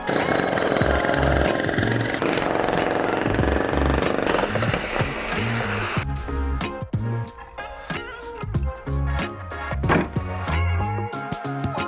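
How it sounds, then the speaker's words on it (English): A jackhammer hammers loudly and continuously at close range, breaking something up, with rapid pounding bursts that grow more broken and irregular in the second half as the tool stops and restarts. "Get the jackhammer, we'll smash one"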